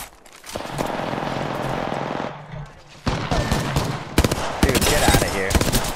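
Rapid automatic gunfire bursts in the Apex Legends shooter game, loud and close, coming in stuttering volleys with brief gaps between them.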